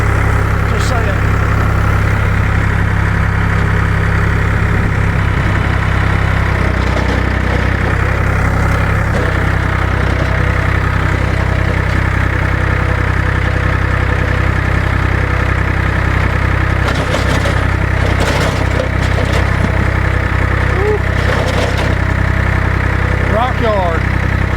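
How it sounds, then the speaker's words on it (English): A tractor engine runs steadily with its PTO engaged to drive a tiller while a new cornfield is worked. The drone is loud and continuous throughout, with faint rattles and occasional voices beneath it. "Probably help if I engage the PTO to turn that tiller."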